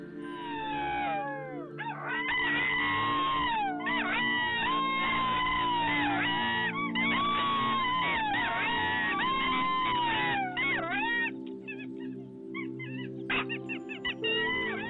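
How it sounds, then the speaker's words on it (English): Golden jackals on the Greek island of Samos call in a dense chorus of rising and falling howls and yips, overlapping continuously for the full length, fairly loud and carrying, with no talking. "To an untrained ear, due to the complexity of the jackal's calls, the vocalizations of a single animal can sound like those of an entire pack."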